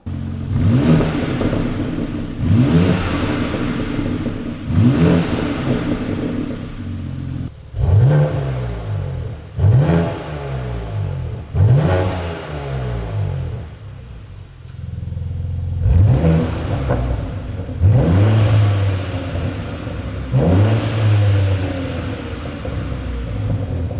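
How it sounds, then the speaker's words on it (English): A BMW M2 exhaust revs repeatedly, each sharp throttle blip rising and falling, loud and close, with deep burbling between bursts. "we'll do some sound clips of the exhaust revving"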